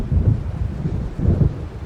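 A low rolling rumble of thunder from an approaching storm in the video game Alan Wake, deep and steady with two swelling peaks, loud and alone over faint rain-like hiss.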